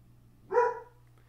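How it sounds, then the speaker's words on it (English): A single dog bark, fairly near and clear, heard once against a quiet room background with a low steady hum. "I want to see what the dog is barking at"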